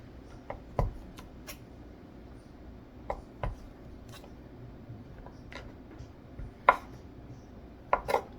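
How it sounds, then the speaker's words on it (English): Leftover cheese being chopped into small bits for a salad, sharp knife taps on a board scattered irregularly over a quiet background, some louder strikes near the end. "Just chop them up into little bits"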